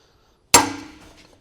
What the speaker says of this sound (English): take a bigger hammer, work our way around and make sure that it's seated solidly